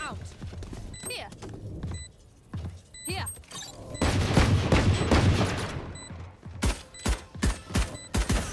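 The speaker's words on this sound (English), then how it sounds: "Swarm grenade out." Jett's swarm grenades detonate in a Valorant-style shooter match, a dense burst of rapid pops and crackles mid-round, followed by a string of sharp separate bangs, with a player talking over parts of it.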